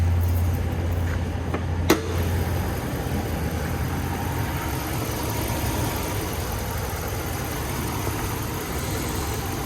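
A Hemi engine idling after a cylinder misfire repair, a steady low rumble heard close and continuous, with a brief click near the start and no talk.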